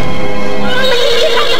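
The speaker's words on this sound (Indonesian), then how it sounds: "Kuda itu mengais-ngais kakinya dan sesekali meringkik keras dengan sikap yang kelihatan marah." A horse gives a loud, close, strained whinny that rises and wavers angrily, filling the short moment with harsh neighing.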